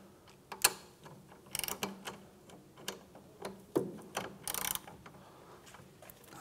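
Clicks and ratcheting from a socket wrench loosening the 14 mm brake caliper guide pin bolts on a 2011-2016 Hyundai Elantra, a scattered series of sharp near ticks and short metallic bursts with no talk.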